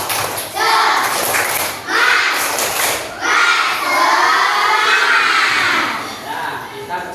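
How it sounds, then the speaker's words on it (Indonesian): Classroom children loudly chant and shout a 'tepuk semangat' spirit clap in unison, with rhythmic claps and thumps, in several energetic bursts separated by short pauses. "Nah, tepuk semangat."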